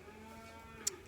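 A dairy cow lows in a soft, sustained moo, fairly faint and at a middle distance on a homestead farm, with a brief sharp click near the end and no speech.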